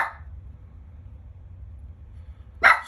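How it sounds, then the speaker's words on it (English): A pet dog named Chip barks once, loud and close, near the end after a long quiet stretch with low background hum; a brief faint yip at the very start. "That's the dog. That's Chip."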